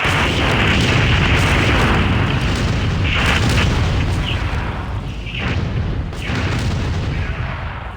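A grenade blast in the shooter game Critical Strike, heavy and booming, followed by a continuous loud rumble and crackle of battle noise that fills the whole stretch, with brief dips near the end.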